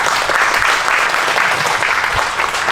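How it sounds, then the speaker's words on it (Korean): A church congregation gives dense, continuous welcoming applause for visiting pastors at an anniversary service, a steady wash of many hands clapping at once. "환영의 박수"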